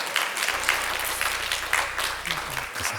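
A church congregation claps in a brief, soft burst of applause at a sermon, diffuse and moderately distant, with a low steady hum underneath.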